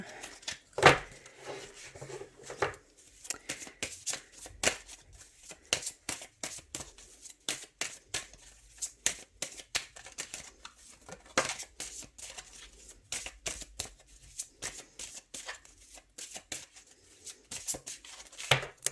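Tarot cards are shuffled and cut by hand, making a dense run of quick, papery flicks and taps. The sound is close and fairly quiet, with a few sharper slaps among the rustling.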